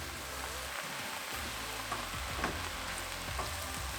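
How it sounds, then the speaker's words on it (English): About 120 grams of spinach frying in a pan as it is stirred: a steady, close sizzle with soft scraping and shuffling of the leaves, with no speech. "I'm gonna use about 120 grams of spinach. It looks like a lot, but it'll cook down"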